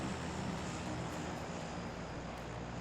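A plane's engine in the video game PUBG, heard as a steady, dense droning roar that fills the whole stretch at constant loudness, with no talk over it.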